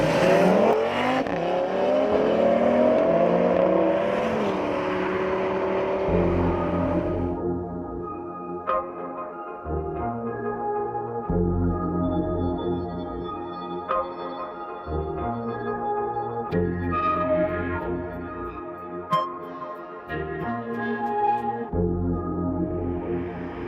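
A 2017 Audi RS3 sedan's engine revs up hard and fades, then settles into a loud, rhythmic burble of repeated throttle blips and pulsing exhaust drone, close and continuous throughout.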